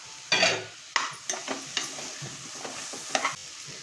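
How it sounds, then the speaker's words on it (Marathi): Chopped vegetables for a broken-wheat and moong dal khichdi go into a hot pan, which sizzles softly under repeated spoon scrapes and stirring knocks, all fairly quiet and close. "आता आपण ह्या ज्या भाज्या घेतल्या आहेत ना त्या आपण ॲड करूया."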